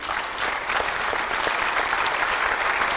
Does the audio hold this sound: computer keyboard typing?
no